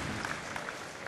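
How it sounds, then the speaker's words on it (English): Brief burst of audience applause at a Blizzcon StarCraft match, dense clapping from a crowd heard at moderate distance, steady for about a second. "give a big round of applause to both players"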